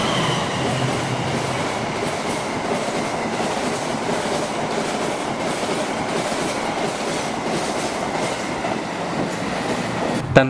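The Argo Bromo Anggrek express train rushes past Klari station in Indonesia, a steady, loud roar of wheels and carriages with faint rhythmic clatter that holds for several seconds.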